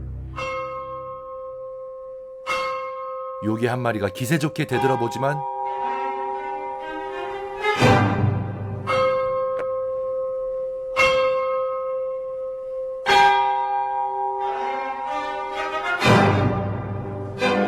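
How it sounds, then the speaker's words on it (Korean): Orchestral church bells from Berlioz's Symphonie fantastique funeral scene toll in a slow, regular series of deep, resonant strikes with long ringing decay, over quiet orchestra, while a narrator speaks over parts of it. "그리고는 울려 퍼지는 장례식장의 성스러운 종소리."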